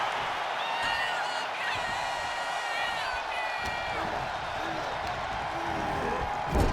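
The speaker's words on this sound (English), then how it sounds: "Orton starting to get the crowd involved" A wrestling arena crowd cheering and roaring at a steady loud swell throughout, with an announcer's voice carrying over the noise.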